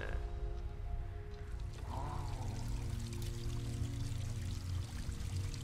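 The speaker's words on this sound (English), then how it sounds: "why are you filling up with water?" Water filling up in the video game Gris, a continuous pouring, streaming rush with gurgling tones that holds steady and fairly loud throughout, with no talk.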